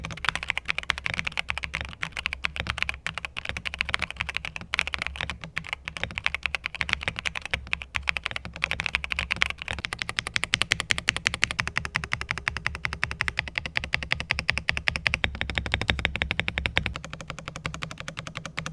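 Rapid, continuous clacking of keys on a Royal Kludge RK X87 wired mechanical keyboard, dense and steady, recorded up close with no voices.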